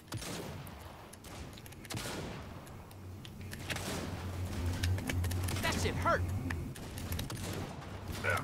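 Gunfire in the video game Saints Row, with shotgun blasts and scattered bursts of shots at low level, heard under a player's talk and game background noise.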